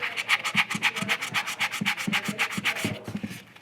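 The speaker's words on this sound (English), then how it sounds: "So we're just going to sand it a little bit" A 400-grit superfine sanding sponge rubs over a primed figure in steady, quick back-and-forth strokes, close and even, about two dozen passes before trailing off.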